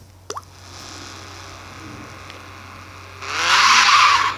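Car drifting in the Real Madrid Drift mobile racing game, with a brief engine rev and faint ambience leading into a loud, sustained tire screech in the final second or so.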